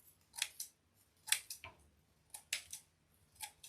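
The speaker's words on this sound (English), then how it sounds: "take my other scissors for this." Several quick, crisp scissor snips in short bursts with pauses between, trimming loose pieces of a sunflower wreath, close and fairly quiet, no talking.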